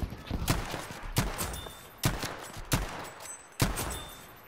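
Gunfire in the video game Battlefield 5 on a Solomon Islands jungle map: sharp shots and short bursts crack out in an uneven rhythm over a steady background wash, fairly close, with no voices.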